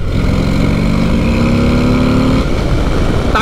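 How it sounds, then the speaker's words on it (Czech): A Harley-Davidson Road Glide ST pulling out through second and third gear, its loud, close V-twin engine roaring steadily under throttle with a rising tone before a brief shift. "dvojka, trojka, ještě ty rychlosti a dáte plyn"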